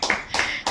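Three quick, crisp hand claps at a family celebration, evenly spaced and close by, with no talk over them.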